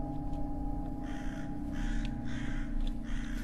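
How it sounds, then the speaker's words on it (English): Crow in the horror game Edge of Dawn cawing several times in short harsh bursts over a steady low ambient drone, with no talk. "Follow the fucking crow."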